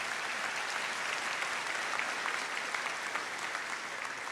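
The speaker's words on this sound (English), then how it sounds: "Yeah, we can clap." Audience applause fills a graduation ceremony held in a church, steady dense clapping throughout with no break and no talk over it.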